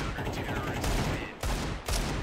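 Rapid gunfire crackles loud and dense in a Counter-Strike 2 match during a FURIA versus Virtus.pro semifinal, sustained bursts broken by short pauses, with an excited commentator shouting over it.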